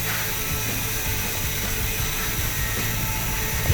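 A Dongcheng DSM 03-100A angle grinder cuts through 16 mm threaded steel bar, giving a loud, continuous, harsh grinding whine with a rough, rattling texture throughout, close and uninterrupted.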